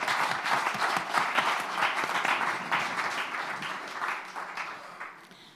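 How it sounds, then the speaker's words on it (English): An audience at a panel discussion on circular economy transitions applauds the panelists, steady dense clapping that holds for several seconds before slowly thinning out. "So let's give an applaud to our panelists."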